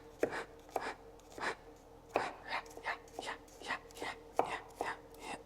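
A knife minces garlic on a cutting board in quick bursts of sharp, repeated chops, with short pauses between rapid runs, close and moderately loud.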